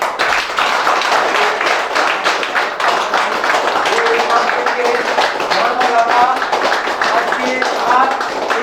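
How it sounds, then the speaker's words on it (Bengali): A birthday audience claps together in honor of a teacher, with a steady stretch of many hands clapping and some voices in the room. "আজকে সবাই স্যারের জন্য একটু সবাই মিলে হাততালি মারি"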